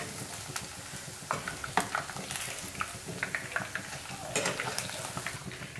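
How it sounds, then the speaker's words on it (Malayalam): Paneer cubes frying in hot oil for a crispy restaurant-style veg snack, a steady close sizzle broken by sharp stirring scrapes and clinks of a utensil against the pan, with no talking. "പനീർ പിന്നെ ഫ്രൈ ആയിട്ട് വരാൻ ഒരുപാട് സമയമൊന്നും വേണ്ട"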